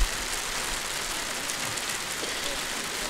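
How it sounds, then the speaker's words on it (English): Heavy rain falls steadily as a dense, even hiss of drops on surfaces, loud and unbroken throughout, with no distinct voices. "Since it's raining like this right now,"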